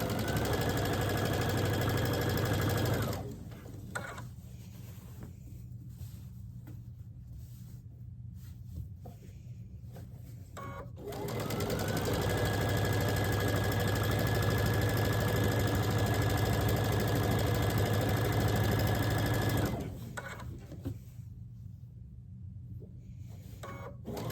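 A sewing machine stitches a log cabin quilt panel in two long runs, a steady close whirring hum that stops for several seconds in between and near the end, with no talking.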